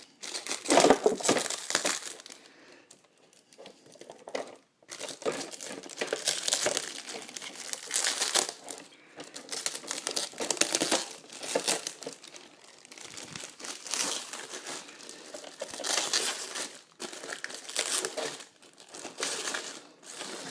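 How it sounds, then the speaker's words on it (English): Plastic wrapping is crinkled and pulled off a Redcat Blackout RC truck, with repeated rustling, crumpling bursts and brief pauses throughout, close and moderately loud. "Take the plastic off"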